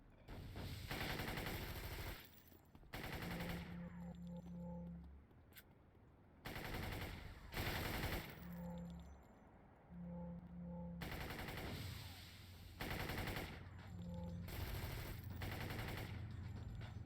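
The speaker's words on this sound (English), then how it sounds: "Just drives right through the gunfire." Bursts of rapid machine-gun fire from the video game City of Heroes come in several loud volleys separated by short pauses, with a synthetic, game-like quality.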